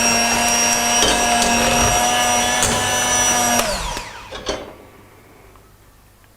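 An electric whisk runs steadily as sugar syrup goes into a Turkish delight mixture, a loud, even motor whine close by that holds for about four seconds, then winds down with a few faint clinks before quiet.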